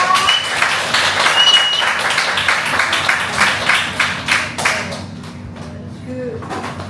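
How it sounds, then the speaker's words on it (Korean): A room claps for the cook after a cooking demonstration of fish-cake japchae and shrimp with beef brisket and bean sprouts, a lively burst of applause that gradually thins and fades out, with a voice briefly heard underneath. "다시 한번 큰 박수 보내드리겠습니다"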